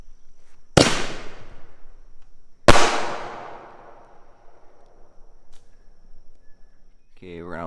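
Two sharp, loud Boom Boom firework explosions about two seconds apart at an outdoor Fourth of July celebration, each bang trailing off into a ringing decay, with a brief voice at the very end.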